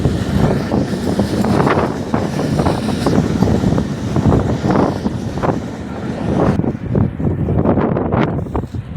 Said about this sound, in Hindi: बड़ी तेज़ हवा है, बड़े मुश्किल से हम यहाँ पे चल रहे हैं।